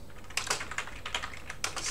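Typing a terminal command on a computer keyboard: a quick, irregular run of close key clicks and taps with brief pauses, alone without talk.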